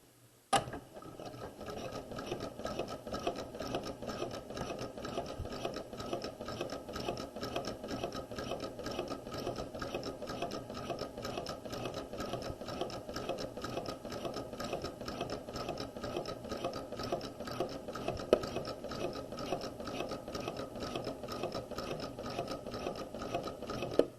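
A sewing machine runs steadily for about twenty-four seconds, stitching two parallel rows along a set-in sleeve with long threads and no backstitching, a fast even mechanical chatter close by with no talk.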